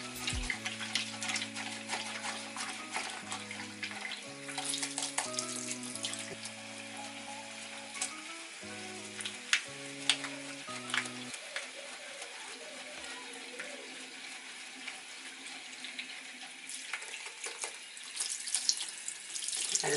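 Tap water runs steadily into a sink while makeup brushes and sponges are rinsed, a continuous splashing hiss with low tonal hums in the first half, then softer running water.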